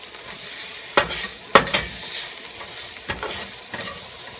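Spoon scraping through marinated chicken with chili powder and garam masala in a hot pan, a few sharp stirring clatters over a steady soft sizzle, close and alone.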